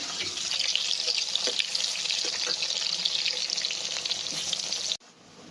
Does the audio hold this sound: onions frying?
yes